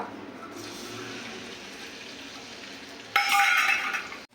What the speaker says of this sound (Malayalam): അതിലേക്ക് ഞാൻ വെളിച്ചെണ്ണ ഒഴിച്ചു കൊടുത്തു ഇനി അതിനകത്തേക്ക് വേണ്ടത് വെളുത്തുള്ളി വേപ്പില സവാള